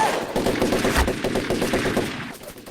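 A rapid burst of machine-gun fire rattles as an effect in a comedy sketch. The shots come in an even, fast rhythm of about a dozen, up close and loud with no talk, then cut off sharply near the end.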